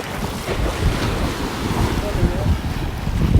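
Ocean waves wash in as the water rises at an Atlantic beach, with a continuous low roar and wind buffeting the microphone throughout.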